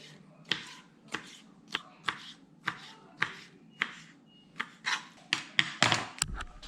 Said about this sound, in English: Chop up your squid.